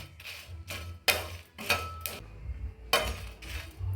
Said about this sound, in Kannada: ಇಷ್ಟು ಮೆಂತೆ ಸ್ವಲ್ಪ ಮೆಣಸಿನಕಾಳು ಇದನ್ನು ಒಂದು ಎರಡು ನಿಮಿಷ ಹುರ್ಕೊಳ್ಳೋಣ